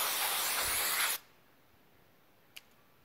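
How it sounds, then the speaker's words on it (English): An air compressor nozzle blasts dust out of a pleated woodshop dust-collector filter in one loud, close hissing burst lasting about a second, then cuts off to near silence with a single brief tap afterward. "take an air compressor and blow out the dust."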